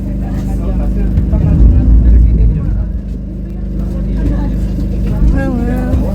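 Motor drone of a speedboat easing in to dock at a pier on the way to Pulau Tidung Kecil, a steady loud rumble with water churn, while people talk over it.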